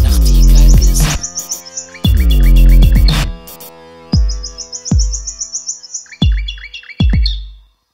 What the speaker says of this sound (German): die Nachtigall schmettert ihren fetzigen Gesang auf die luftigen Bretter